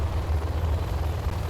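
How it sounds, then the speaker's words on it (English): A Helix helicopter in Command & Conquer Generals Zero Hour gives a steady, loud low rotor drone with a rhythmic throb and no talk over it. "Our new Helix helicopter should assure your success."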